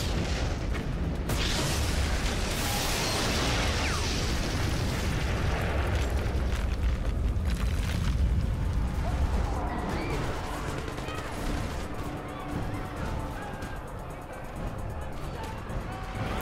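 Rocket blasts in the video game Prototype, a dense loud roar of overlapping booms and crashes that gradually thins into scattered rumbling and debris.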